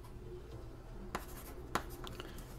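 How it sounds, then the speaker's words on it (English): Pen scratching numbers onto paper by hand, a quiet, close sequence of short scribbles with two sharper strokes standing out over a low background hum. "let me write this down"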